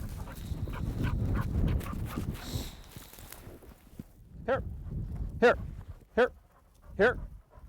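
A dog gives several short, sharp barks outdoors at a creek, spaced apart near the end after a stretch of footsteps and rustling, with people talking nearby.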